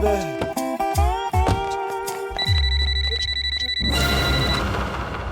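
A telephone rings loudly and repeatedly in a comic film scene, its electronic ring layered over music and dialogue, with people speaking around it.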